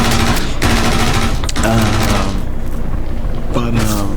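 Loud, sustained automatic weapon fire in the video game Star Citizen 4.3.1 during a deep bunker mission, dense bursts with short breaks and someone talking over them.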